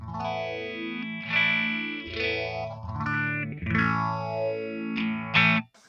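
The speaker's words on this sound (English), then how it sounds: "So I have fuzz on here, and the fuzz is actually going to sound pretty decent for digital fuzz" Fuzzy distorted electric guitar through a Boss ME-90 digital fuzz plays a short phrase of sustained chords and slides with a buzzy fuzz tone, close and moderately loud.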